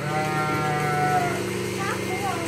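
Sheep bleat loudly and repeatedly at Calabogie Family Farm during milking, drawn-out wavering cries over steady livestock-barn background noise.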